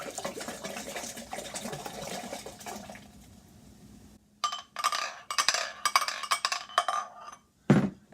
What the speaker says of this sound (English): start out with the cheapest red wine you can get your hands on, preferably dry, and put it in a pitcher